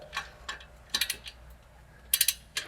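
A ratchet wrench works a 15mm bolt while a control arm is installed on a 2005-2009 Ford Mustang, giving short bursts of quick metallic clicking separated by pauses, close and fairly loud.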